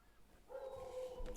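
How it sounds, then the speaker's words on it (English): One sustained, tonal dog cry, somewhere between a bark and a whine, rises out of near silence and holds for under a second, heard faintly from a distance with no one talking. "I'm sorry about the barking."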